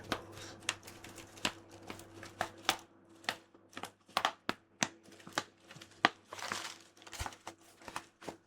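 Light crinkling made for ASMR comes as irregular soft crackles and small crisp pops, close and quiet, with occasional brief rustling bursts.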